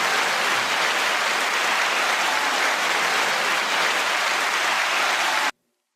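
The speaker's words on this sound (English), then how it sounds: "Now, second applause." A hip hop track plays dense, steady applause from a crowd, a continuous wash of clapping at even loudness that cuts off abruptly at the end.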